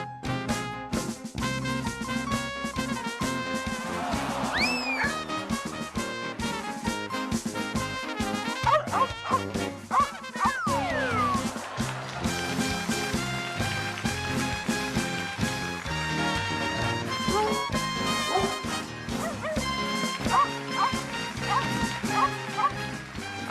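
At a Ringling Bros. and Barnum & Bailey circus performance in 1999, a performing dog barks repeatedly amid loud, dense band music that runs throughout.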